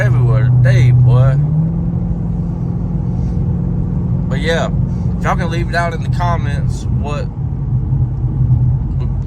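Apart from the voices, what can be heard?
Ford Mustang SS engine with Flowmaster exhaust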